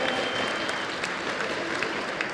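Audience applause at a Gamers Assembly 2017 esports event, Smash 4 grand final, honouring the third-place player: steady dense clapping from a crowd throughout, fairly distant and even, with no clear talk.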